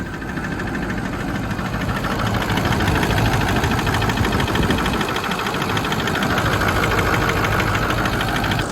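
A truck engine idling with a misfire, steady and loud with a rough, rhythmic knock running through the whole stretch and no voices.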